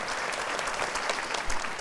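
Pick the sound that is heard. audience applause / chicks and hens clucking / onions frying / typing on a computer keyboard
audience applause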